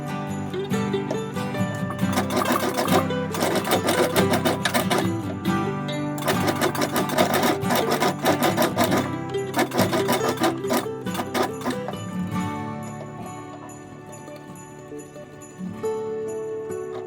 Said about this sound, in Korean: 바느질 되지 않은 뒷중심을 박음질합니다.